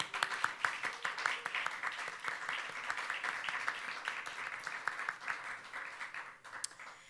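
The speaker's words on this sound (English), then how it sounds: "Let's give them a round of applause." An audience at a Berklee event applauds, many hands clapping in a lively, sustained patter at moderate volume.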